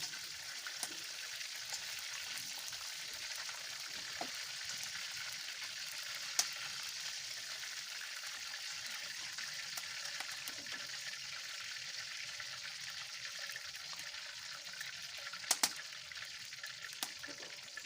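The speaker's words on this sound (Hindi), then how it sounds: "ये देखें कितने अच्छे तरीके से फ्राई हो रहा है।" Chicken frying in hot oil for a korma gives off a steady, even sizzle throughout, close and moderately loud, with a few sharper pops near the end and no voices.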